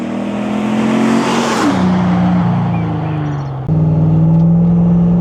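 A 500-horsepower 6.2-litre LS V8 in a classic Range Rover revs hard and loud, pitch rising then dropping through gear changes, with a deep burbling exhaust roar close by.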